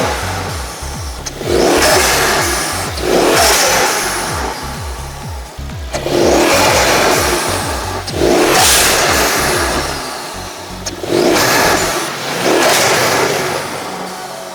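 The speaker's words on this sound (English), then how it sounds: "Now we'll do intake sounds." A 2016 Mercedes-AMG C63 S is revved in five or six distinct bursts, each loud roar with intake whoosh rising then dropping back toward idle between blips, close by and without speech.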